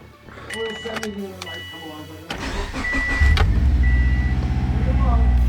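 A car is started after an oil top-up. After some early clatter and brief sounds, the engine cranks, catches and settles into a steady, close idle that keeps running to the end.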